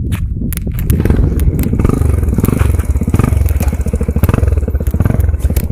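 A scooter engine runs steadily and close by, its low, busy throb continuous throughout with some clatter and knocks on top.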